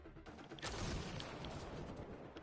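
Dense burst of gunfire and explosive blasts in the sci-fi shooter Mass Effect Andromeda, set on the icy planet Voeld, loud and sustained with sharp cracks layered over a rumbling barrage.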